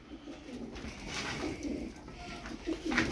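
A flock of about fourteen Turkish tumbler pigeons coos steadily in low, overlapping murmurs over several seconds, close by and fairly soft.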